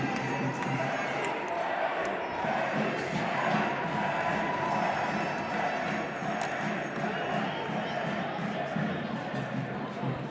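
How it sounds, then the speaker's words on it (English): A large crowd roars continuously at a high school junior girls volleyball championship, voices swelling in rhythmic chants that fill the gym at a steady, energetic level. "The chants are getting crazy here"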